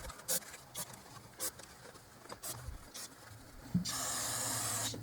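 A can of carburetor cleaner sprays in a close, steady hiss into the intake ports of a 2007 GMC Yukon Denali during reassembly, after a few short taps and clicks.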